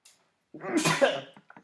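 A single sharp sneeze bursts out after a brief silence, close and fairly loud, trailing into a few soft breathy sounds.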